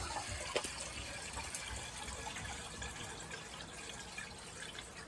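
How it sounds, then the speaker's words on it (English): Water from a hose rushes into a sawmill's water tank, a steady, faint splashing fill that runs evenly with no talking. "Turn on the water."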